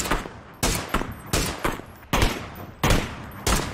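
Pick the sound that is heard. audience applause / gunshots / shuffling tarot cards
gunshots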